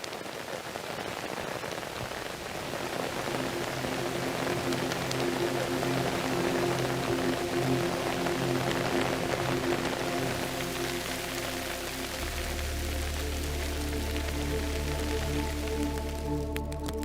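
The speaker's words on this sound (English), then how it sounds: "How important is this rain that we're feeling right now to this community?" Steady rain falls in a rural Jamaican community, a dense, even hiss of drops on surfaces continuing throughout, with a low hum and faint tonal sounds emerging toward the end.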